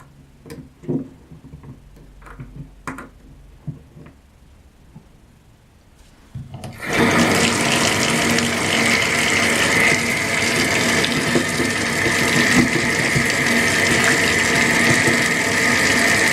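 Water rushes loudly and steadily through a freshly cleared sink drain, starting abruptly after a quieter stretch of small clicks and taps and continuing as a broad, even gush to the end.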